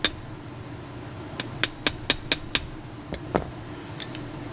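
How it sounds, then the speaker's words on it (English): Light metal taps of a hammer on the end of a screwdriver, driving out a pin on a 1995 Indy 440 in a workshop: a quick series of about six sharp, evenly spaced clicks, then a few scattered taps, close and alone. "Just give a little tap on the end of the screwdriver."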